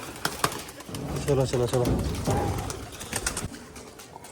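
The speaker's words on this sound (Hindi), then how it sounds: "आधे कबूतर तो खुद ही उड़ गए" Pigeons cooing in a few soft rounds, mixed with wing flutter as some of the flock takes off, while a man keeps calling out over them.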